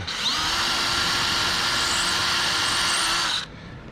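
A power drill bores into cedar wood while building a small chest, its motor whining loud and steady for about three and a half seconds before cutting off abruptly, close up.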